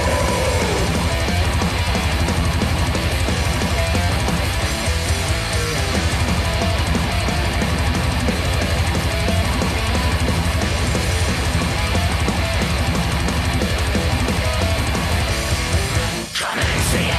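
Thrash metal song, loud and dense throughout with driving drums, distorted guitars and steady double kick, playing continuously before cutting off abruptly near the end.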